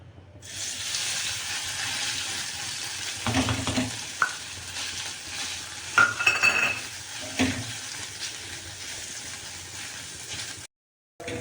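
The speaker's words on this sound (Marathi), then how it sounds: "आता आपण खवा भाजून घेऊ" Khoa roasting in a little ghee in a pan for panchkhadya modak, with a steady close sizzle and occasional scraping stirs and utensil knocks, heard alone until it cuts off near the end.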